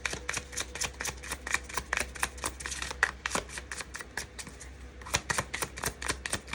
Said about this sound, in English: I don't even usually shuffle these cards like this.